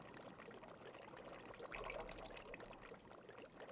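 Potion is poured in the Harry Potter and the Deathly Hallows Part 1 video game: a soft, steady stream of liquid that swells louder partway through, then eases off, with no one talking.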